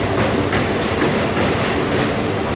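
A local train running on rails from Howrah to Digha makes a loud, close, continuous rumble from inside the carriage, with rhythmic clickety-clack wheel beats repeating about every half second.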